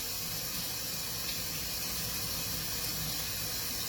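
Green grapes rinsed under a running kitchen tap, a steady close hiss of flowing water with no talk over it.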